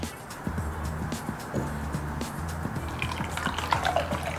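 Coconut milk strained through gathered cheesecloth, with close, irregular drips and trickles of liquid falling steadily, plus some soft handling noise toward the end.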